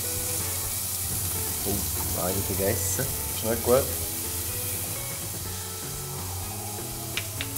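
Olive oil sizzles steadily in a pan as green bell peppers brown for a Louisiana jambalaya, with a continuous hiss and occasional stirring scrapes under brief talking.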